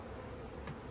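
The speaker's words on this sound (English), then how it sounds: "That is a lot of bees, people." Dense mass of honey bees buzzing as a hive is split into nucs with queen cells, a steady close drone without voices.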